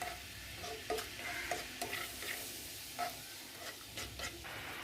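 Boba pearls simmering in water in a pan on the stove, giving a steady soft bubbling sizzle with scattered light clinks and stirring sounds, fairly quiet and continuous, with no talking.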